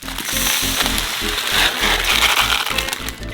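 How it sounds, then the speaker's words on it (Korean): Dry buckwheat grains, 1 kg, pour and rattle steadily into a metal pot, a continuous gritty rushing with scattered crackles, close and fairly loud throughout. "냄비에 메밀 1kg을 붓고"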